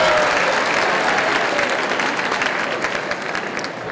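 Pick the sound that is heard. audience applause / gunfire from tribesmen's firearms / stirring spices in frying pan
audience applause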